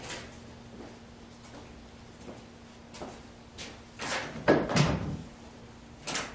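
A 1976 Corvette's car door clunks open and shut nearby, a couple of sharp mechanical latch thumps over a quiet background hum, with no talking.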